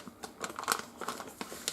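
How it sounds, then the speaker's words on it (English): A heavy-duty plastic Ziploc freezer bag crinkles softly and continuously up close, with irregular crisp rustles and small snapping ticks as it is handled around bacon. "we'll slip it into one of our Ziploc freezer bags"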